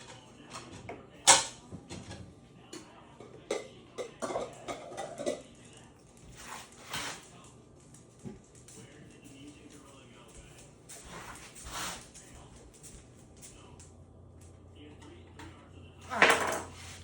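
A knife cuts through a stack of flour tortillas on a board, making them into wedges for chips. Scattered crisp taps and clatters come from the cutting, with quiet talk between them and a sharper clank near the end.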